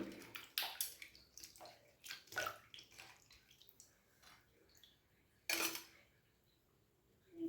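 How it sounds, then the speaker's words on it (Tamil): Coconut pieces washed by hand in water, several splashing sloshes and clinks of pieces against a bowl in a quiet kitchen, with short pauses between. "தேங்காவெலாம் வந்து தண்ணியில் சேர்த்து நல்லாவே வாஷ் பண்ணி எடுத்துக்கலாம்"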